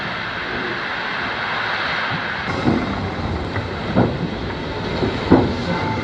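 Barclay 0-4-0 steam locomotive shunting wagons on ironworks furnace exchange sidings in Wales, a steady mechanical rumble with periodic soft chuffs and clanks spaced a second or so apart, moderately distant.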